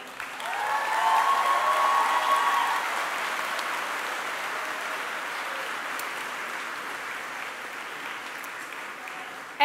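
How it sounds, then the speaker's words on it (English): Audience applause at the Treasure Coast High School class of 2018 graduation ceremony: a dense, steady wash of many hands clapping, with a brief cheer near the start, fading a little and holding on without speech. "I applaud you, class of 2018."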